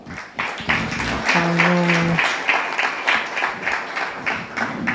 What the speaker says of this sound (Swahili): Makofi kwa mwalimu